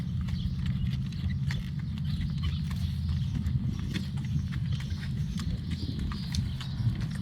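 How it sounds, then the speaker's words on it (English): Horse hooves clop steadily on a hard surface close by, a continuous rhythmic walking beat with no talking. "Horses."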